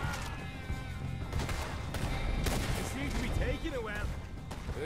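Gunfire in the video game Red Dead Redemption 2, sharp shots and bursts breaking through a dense, busy mix with a voice talking over the action.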